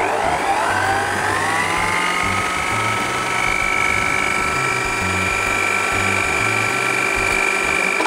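An electric mixer beats eggs with sugar for cake batter, a loud steady whirring drone that holds from start to end with a rising whine near the beginning and no speech.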